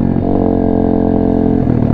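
An Apollo RFZ Chinese dirt pit bike engine revs hard and close for a wheelie up a small hill, a loud, steady, buzzing drone with a slight rise and dip near the end.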